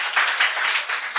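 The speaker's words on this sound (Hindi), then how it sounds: "ताली बजनी चाहिए एक बार" A group claps steadily in a classroom, a brisk, even patter of many hands that stays fairly loud and close for the whole short burst, with no talking over it.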